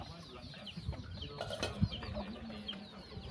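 Chickens at a farmhouse feeding, soft scattered clucks and low calls nearby over a busy outdoor background, with a voice briefly present.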